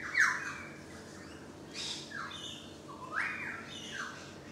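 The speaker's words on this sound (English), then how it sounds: "other birds are outside." Birds calling outside on a balcony: a few loud, sharp squawking calls at intervals, near and alone, with softer chirps and a faint whistle-like call between them, including a currawong's song.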